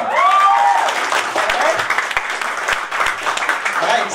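Audience applause at a business presentation, a dense continuous wash of clapping filling the room, loud and sustained with a brief voice over it at the start.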